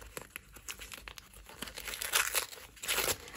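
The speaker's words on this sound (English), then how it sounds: "can't unwrap it." Wrapping on a package crinkles and tears in quick, irregular bursts close by, fairly soft, growing busier toward the end as someone struggles to unwrap it.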